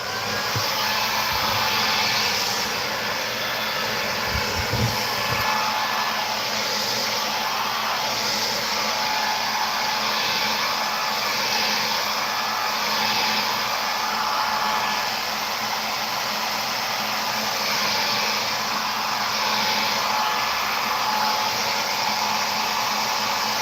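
A dryer blows a steady, loud whooshing drone without pause to dry a coat of finish, with a few low knocks early on.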